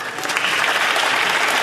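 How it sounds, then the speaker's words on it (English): Sustained applause fills the House of Commons chamber as members rise and clap, a dense, even wash of many hands at steady loudness throughout, with no speech over it. "They got up and clapped."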